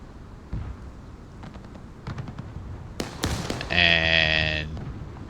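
Civil War cannon fire in War of Rights sounds as scattered distant booms and sharp cracks, then a louder burst near the middle, followed by a sustained tonal rumble lasting about a second.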